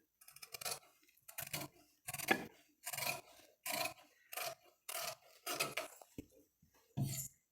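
Scissors snip through blouse sleeve fabric in a steady series of about ten separate crisp cuts, each a short scraping chomp with brief pauses between, close and quiet, no voices.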